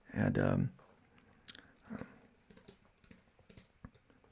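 Rapid tapping on a computer keyboard, a quick burst of keystrokes, close and fairly quiet, after a short louder thump at the start.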